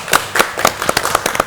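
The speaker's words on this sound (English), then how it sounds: "Let's clap for our guest judge" An audience on a cooking competition show claps for a guest judge, giving a brisk, uneven patter of close handclaps that lasts only a moment.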